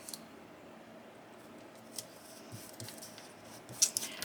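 Scissors cutting paper for junk journal ephemera, quiet snips scattered across a hushed room, a few sharper cuts standing out near the end.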